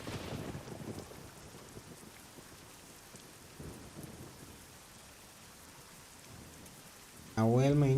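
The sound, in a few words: rain falling in the trucking video game TruckersMP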